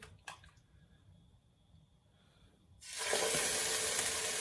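Salmon pieces dropped into a hot pan, a faint clatter, then a sudden loud, steady hiss of sizzling that carries on to the end.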